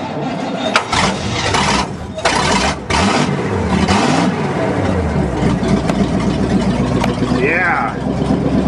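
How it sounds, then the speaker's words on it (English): An old loader starting for the first time since 2001, its engine catching and running in a loud, rough, steady drone that rises with throttle, as people talk over it. "Whoa, I guess we do need to give it some throttle."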